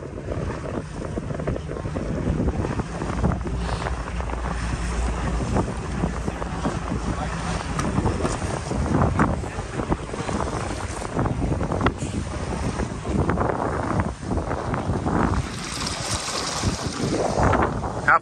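Wind gusts over open water on a boat during sea duck hunting off Maryland, a steady roaring rush with microphone buffeting and wave wash, loud and continuous throughout.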